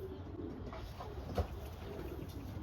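A racing pigeon at a loft gives a faint, brief coo against a steady outdoor background hum, quiet and somewhat distant.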